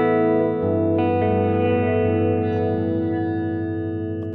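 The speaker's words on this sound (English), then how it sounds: "it almost sounds like a tank reverb and like a delay" A guitar runs through a Line 6 Helix tank reverb placed before a delay, ringing out as one sustained, wash-heavy chord with a struck note or two, slowly decaying and loud.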